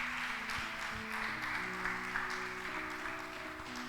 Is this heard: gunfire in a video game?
no